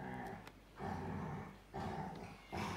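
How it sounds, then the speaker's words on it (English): Puppies play together and let out low growls that come in rough bursts, faint and close, over a soft background hiss. "let's try and do this while the puppies have a play."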